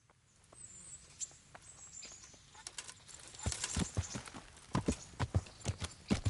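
Video game horse hooves clip-clop faintly at first, then grow louder and closer in a quick, uneven rhythm, with a soft ambient bed underneath.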